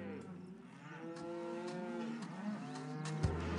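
Several cartoon cows moo in overlapping, drawn-out calls in the video game Putt-Putt: Pep's Birthday Surprise, loud and close, with no talking.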